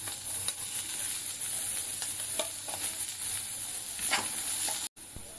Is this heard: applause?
no